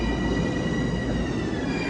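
Trains rumble steadily through Mineola station at night, a loud continuous railway roar with rolling wheel noise and faint high tonal squeal, no voices.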